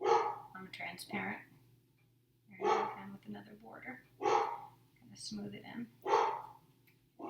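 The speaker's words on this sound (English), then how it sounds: "someone's at my house because my dog is barking" A pet dog barks indoors at home in several short bursts, somewhat distant and muffled, mixed in with someone talking close by during a mixed-media art journaling session.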